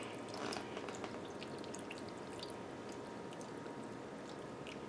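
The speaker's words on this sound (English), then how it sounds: "So I'm going to take the pineapple juice and pour it over top." Pineapple juice pouring over ham in a dish, a soft continuous splashing and dripping trickle that stays fairly quiet and even from start to finish, with no talking.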